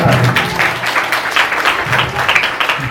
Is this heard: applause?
yes